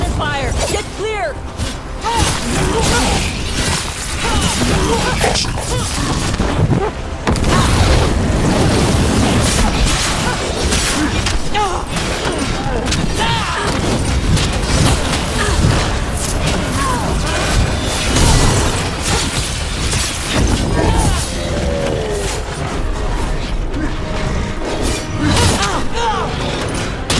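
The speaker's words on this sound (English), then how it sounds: "Cannon fire! Get clear!" Cannon fire and explosions boom and crash through a Dragon Age: The Veilguard battle, dense and loud for the whole stretch, with shattering debris and mechanical clatter layered under shouted voices.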